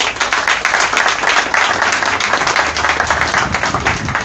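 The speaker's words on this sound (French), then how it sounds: "Je vous demande d'applaudir très fort." Sustained applause from a crowd, dense clapping filling the whole stretch at a steady, loud level.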